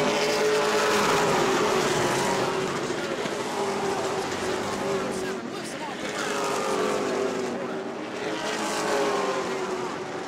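Race cars at New Smyrna's oval roar past in a tight pack, engines droning loudly and continuously with rising and falling waves as they circle, under a commentator's voice.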